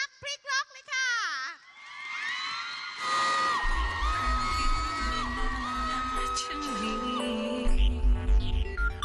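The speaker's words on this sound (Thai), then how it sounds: "ขอเสียงกรี๊ดดังให้กับทีมนักแสดงจากละครเรื่องรักพลิกล็อกเลยค่ะ" A crowd at a live Thai concert screams and cheers loudly for the cast of a TV drama, with whoops and yells rising after a brief announcement and music playing underneath.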